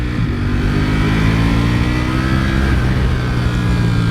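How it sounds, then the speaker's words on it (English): A Ducati Panigale V4R motorcycle's engine revs loud and close, a continuous rich roar with rising and falling pitch sweeps over about four seconds, with no voices. "But this engine, the sound, man, this thing's incredible."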